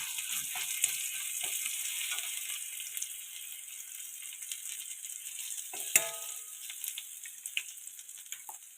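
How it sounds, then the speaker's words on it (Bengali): Garlic paste frying in oil with turmeric gives off a faint, continuous hiss and crackle, with occasional small clicks and taps from the pan. It is heard close up, and no one speaks. "তেল দিয়ে একটু হলুদ দিয়ে দিয়েছি এবার এর মধ্যে একটু রসুন বাটা দিয়ে দিল"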